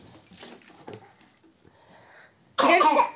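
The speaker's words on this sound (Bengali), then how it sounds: "মেয়েটা কাশি হচ্ছে নাকি" A female pet dog coughs indoors: quiet snuffling and small throaty sounds first, then one loud, harsh, hacking burst close by at the end.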